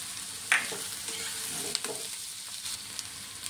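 Onion and turmeric fry in oil in a pan for poha, a steady sizzling hiss with a sharp clatter at the start and light stirring scrapes, no voices.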